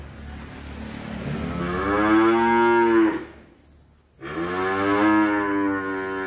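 Cattle at a cattle farm give two long, loud moos close by, the first swelling and fading over about three seconds, then a short pause before a second full bellow.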